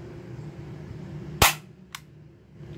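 A Tokyo Marui HK USP spring-powered airsoft pistol fires one sharp, loud snap, followed by a fainter short click about half a second later, over a low steady room hum.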